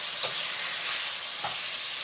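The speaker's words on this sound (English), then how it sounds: "Especially for chopping ground beef." Ground beef frying in a cast iron Dutch oven, heard as a steady close sizzle with two soft scraping stirs about a second apart and no voices.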